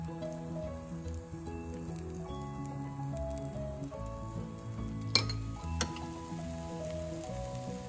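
Oats appe batter filling a greased, lightly heated appe pan, giving a continuous close sizzle and frying crackle with a couple of sharp metallic clinks from a spoon against the pan.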